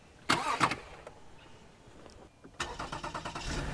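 A car engine is started with a portable jump starter while camping: a short cranking burst is followed by a pause, then the engine catches and settles into a rhythmic, fairly close idle.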